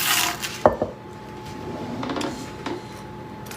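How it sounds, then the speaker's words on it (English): A metal baking sheet handled on a kitchen counter while making sugar cookies, giving a sharp clatter near the start followed by faint scrapes and taps in a quiet room. "So I have my baking sheet."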